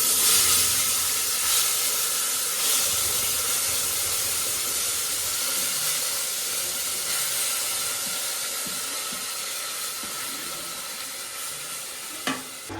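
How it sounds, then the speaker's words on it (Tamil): Thick Tamil-style country chicken masala gravy, made with ground tomato and poppy seed paste, simmering in a pot as a steady sizzling, bubbling hiss that holds close and fairly loud with no talking. "இந்த மாதிரி கொதிச்சுன்னா தான் மசாலா வந்து நல்லா குக் ஆனதும் அர்த்தம்"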